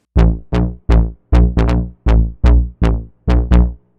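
A punchy bass patch from a KORG ARP2600M analog synthesizer plays a sequence of about ten short plucked notes, each with a bright attack that quickly fades, alone and fairly loud.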